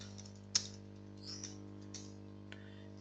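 A few sparse, quiet keystrokes on a computer keyboard while entering an admin username, isolated clicks spaced apart over a steady low electrical hum.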